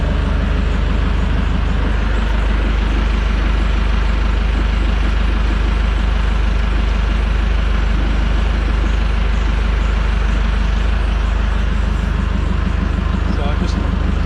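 M1161 ITV LSV 4x4 Growler engine running at a steady low idle, a constant loud rumble with a fine repeating chug, heard close up with someone talking over it.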